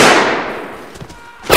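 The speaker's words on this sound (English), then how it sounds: "Is that a shotgun?" A loud, close shotgun blast with a decaying boom in Mount & Blade: Blood and Iron, followed by faint thuds and a second sharp crack at the end.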